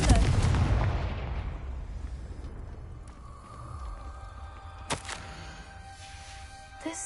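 A Confringo spell blast in a video game, a loud booming explosion at the start that rolls off into a long fading rumble, with faint scattered effects afterward.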